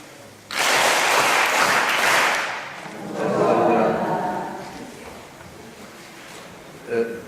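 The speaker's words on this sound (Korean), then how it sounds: "수고해 주신 전일 회장님께 다시 한번 박수" An audience at the close of a Tenrikyo doctrine lecture seminar in a church hall breaks into a brief round of clapping that dies away quickly, followed by someone speaking.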